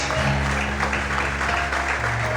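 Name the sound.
congregation applauding in church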